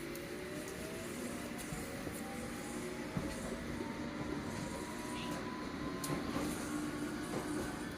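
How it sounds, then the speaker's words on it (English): A London Underground Metropolitan line train to Aldgate rumbles steadily along the track near Moor Park, wheels rattling continuously beneath a faint, slowly rising motor whine. "This is an all stations Metropolitan line train to Aldgate."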